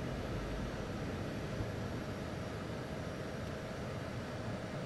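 Simulated T-37B Tweet jet climbing after takeoff in a flight simulator, a steady, broadband engine roar and airflow hiss held at a constant level with no other sounds.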